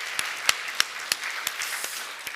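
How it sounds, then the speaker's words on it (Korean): A church congregation applauds after a worship song: scattered, fairly sparse claps at a loose steady pace, moderately distant and fairly quiet, with no talk over them. "다시 한번 감사의 박수 한번 올려드리겠습니다"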